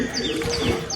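Haifa pigeons in a loft give soft, close coos and chirps in one brief continuous burst.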